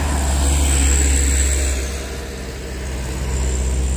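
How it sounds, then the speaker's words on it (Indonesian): A Nissan UD truck reversing on a hillside road, heard as a steady, loud diesel engine drone that dips slightly midway and then holds, with no voices over it. "Yang terjadi dengan Nissan UD ini kok mundur?"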